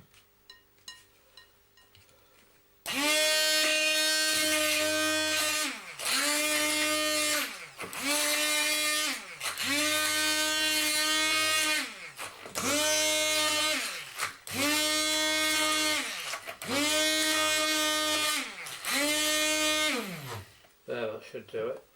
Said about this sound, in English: I'm going in with food mixer just to show you how it's done.